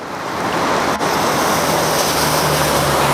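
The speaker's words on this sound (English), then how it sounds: "and the water's coming out over there on the left." Water rushing out below a hydro dam makes a steady, broad roar that continues without a break, with some wind buffeting the microphone.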